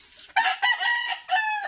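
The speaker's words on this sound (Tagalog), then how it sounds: "May mga manok siyang alaga." A rooster crows close by in a rural yard, several harsh clucking, crowing bursts in quick succession, loud and alone against a quiet background.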